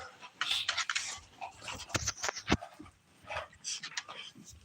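A dog sitting in front of a small heater indoors pants and gives soft whimpers and yips in irregular bursts, close by, with brief human voice sounds mixed in.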